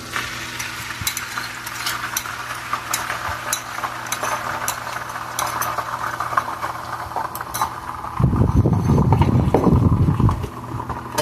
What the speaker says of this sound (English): I am actually going to cook my eggs in the electric skillet this morning